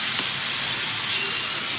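Food fries in a pan with a loud, continuous sizzling hiss that stays even and close throughout the short stretch.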